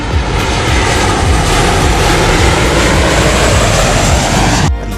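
Loud, sustained roar of a HAL Tejas fighter jet engine running at high thrust, close and constant before cutting off abruptly near the end, with no talk over it.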